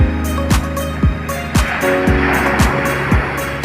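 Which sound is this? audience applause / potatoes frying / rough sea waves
rough sea waves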